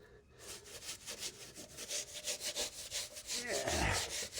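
A stiff brush scrubs back and forth against caked dirt inside a car wheel arch, a steady run of close, rhythmic rasping strokes that grows louder and heavier near the end.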